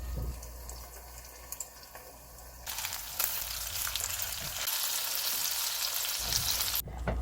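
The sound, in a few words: meatballs frying in a pan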